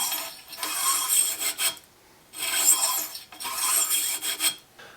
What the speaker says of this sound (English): I'm going to run this bronze brush back through there